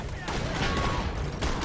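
Bursts of gunfire crackle in a crossfire between enemy factions in the video game Borderlands: The Pre-Sequel, a dense, steady barrage of shots with no gaps.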